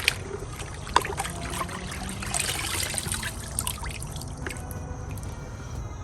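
Water runs and trickles steadily over an air intake filter during rinsing, a continuous close splashing stream with a couple of brief knocks near the start.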